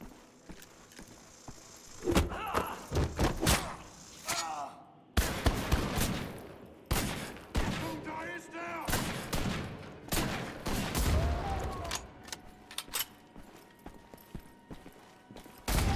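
Comp pistol gunfire in Wolfenstein: The Old Blood comes as loud bursts of sharp shots mixed with game effects, and a voice talks over parts of it.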